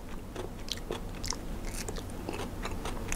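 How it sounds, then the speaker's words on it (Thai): Spider crab roe imported from Ireland being eaten close up, with soft repeated crunchy bites and wet chewing pops scattered through the clip, no talking. "แตกป๊อกป๊อกเหมือนไข่เลยครับทุกคน"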